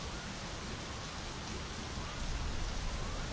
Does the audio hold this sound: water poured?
no